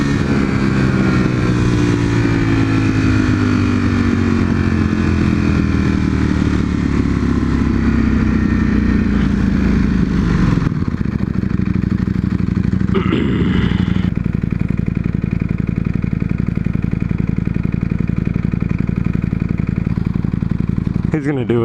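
A car in sport mode accelerates hard off the line against a Nissan GT-R, its engine roaring loudly and continuously with a shifting pitch and a brief break partway through.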